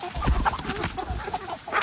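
Backyard chickens clucking close by in short, uneven bursts, loud and clear with no talk over them.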